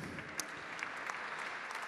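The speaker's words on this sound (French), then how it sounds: "sous applaudissements, s'il vous plaît" Quiet, distant applause from the audience at a French gastronomy and wine awards ceremony for a young chef nominee, a soft steady patter of clapping with a few sharper individual claps standing out.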